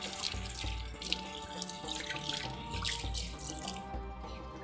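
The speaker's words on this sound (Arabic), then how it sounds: "هغسل ايدي بقى" Hands are washed under a running kitchen tap, with a steady splashing stream of water close by, continuous and unbroken, with no voices.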